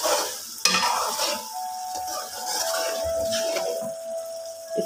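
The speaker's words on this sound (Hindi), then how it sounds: "हम अच्छी तरह भून लेते हैं" Chicken and chickpeas being stirred and fried in a pan: steady close sizzling with a spoon scraping and clinking against the pot, continuous throughout.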